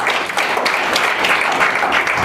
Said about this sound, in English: Clap your hands together for me.